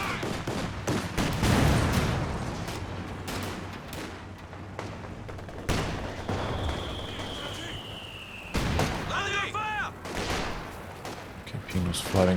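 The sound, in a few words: machine gun fire in video game Company of Heroes 2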